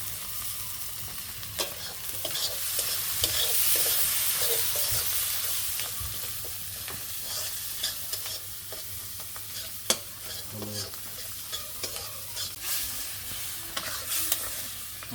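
Spices being stirred and fried in a pan in a village kitchen. A steady sizzle runs under repeated scraping strokes of a spoon, with occasional sharp clinks against the pan.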